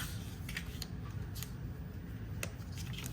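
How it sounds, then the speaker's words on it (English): Scissors clip through scored paper while a berry basket is being made, a few crisp snips in steady succession over a low, constant background hum. "And I am just going to clip this, the V in the middle"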